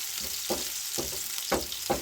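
Onions fry in a pot for a chicken stew, giving a continuous near hiss with regular stirring strokes that scrape through it about twice a second.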